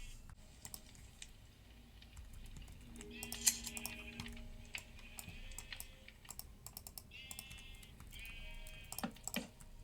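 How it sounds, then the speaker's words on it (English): Sheep on a Minecraft farm give a few short, faint bleats over quiet keyboard clatter and soft clicks, spread across a calm stretch with no talking. "Stupid sheep butts in the way."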